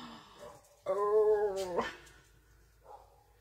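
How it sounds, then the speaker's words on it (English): A dog barks once loudly and close by, a sustained harmonic bark-whine that tails into a fainter yelp, with quiet room noise around it. "going to bark, just so you know"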